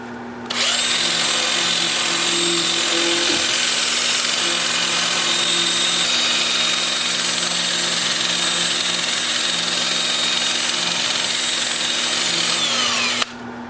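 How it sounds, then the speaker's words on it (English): Butternut wood being sanded on a lathe with a 2-inch disc: a loud, steady, high whining drone starts abruptly, runs unbroken for about thirteen seconds, then cuts off, with no talking. "I can sand all of the body here."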